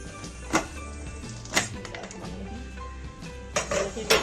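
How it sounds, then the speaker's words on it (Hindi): A metal pressure cooker holding beef champ pulao is opened after its steam is released, giving a few sharp metallic clinks and clanks spaced over a low kitchen background. "आप देख सकते हैं कुकर की अच्छे से स्टीम रिमूव हो चुकी है काफी हद तक। बहुत ध्यान से हमें एहतियात से इसको खोल लेना है।"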